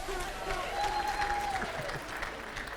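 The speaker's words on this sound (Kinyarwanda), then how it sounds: "mubanze mukoma amashyi bumve ko muhara amashyi menshi cyane ku bana b'Induba" Applause from a comedy show audience, a steady wash of clapping at moderate distance with a faint voice or tone running underneath.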